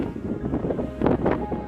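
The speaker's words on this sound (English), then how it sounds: "the wind has got to be blowing like 25, 30 miles an hour trying to blow me off this tower" Strong gusts of cold wind, around 25 to 30 miles an hour, buffet a microphone atop the Clingmans Dome observation tower, a steady rushing roar that swells into two louder blasts near the end.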